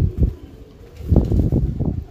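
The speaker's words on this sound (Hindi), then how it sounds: "ये देखें जी कैसा शानदार कबूतर, आँख देखें इसकी।" A Tiger breed pigeon makes low, throaty coos at close range: one short burst, a pause, then a longer run of rolling pulses mixed with soft rustling, with no voices.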